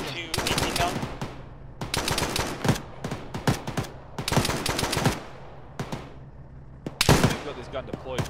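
A deployed machine gun fires in bursts in the military game Arma, with loud, sharp repeated volleys separated by short pauses over a low background hum.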